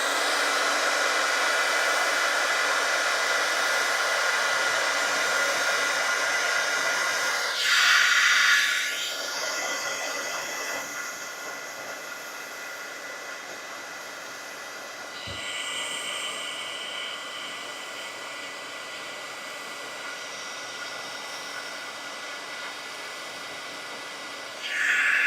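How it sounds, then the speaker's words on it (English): Craft heat tool blowing to heat-set ink on card, a steady loud whooshing hiss running continuously with shifts in pitch as it moves, no talk. "I'll use my heat tool just to heat set this"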